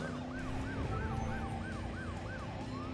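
Ambulance siren from the Driver San Francisco video game, wailing in steady rising-and-falling sweeps that repeat roughly every third of a second over a constant engine hum, loud and continuous with no talk.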